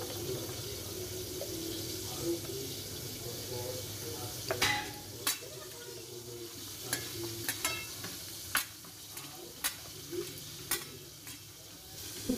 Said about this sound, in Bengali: আর আরেকদিকে পটল ভাজাগুলো হচ্ছে